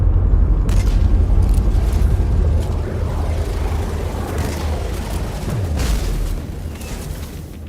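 A grenade explodes in a shooter video game with a loud, booming blast that rumbles and slowly fades over several seconds, with smaller bursts and a second swell of noise near the end.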